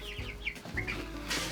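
Soft clucking and short chirpy calls from chickens close by in a hen house over a low steady hum, fairly quiet and with no talking.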